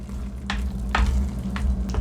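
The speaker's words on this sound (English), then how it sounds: "Just give it a little bit of a stir so that it cooks a little bit more evenly" A spoon stirs cheesy chicken broccoli rice casserole in a pan, giving several soft scraping swishes spaced about half a second apart over a steady low sizzle.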